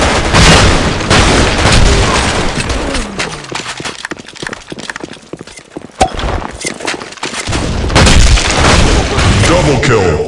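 A grenade goes off amid chaotic gunfire and effects in the shooter game Black Shot, loud booming blasts and bursts near the start and end with a sharp crack around the middle, under game voice callouts.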